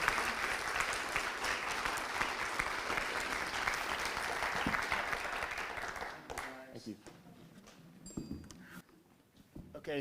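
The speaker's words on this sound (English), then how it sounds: "Please give them a big round of applause." Audience applause for Tullahoma City School Board candidates at a Coffee County political forum, a dense sustained clapping that fills the first six seconds, then thins into scattered claps and murmuring voices.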